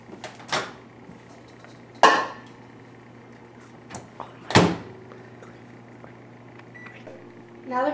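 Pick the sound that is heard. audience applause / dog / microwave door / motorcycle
microwave door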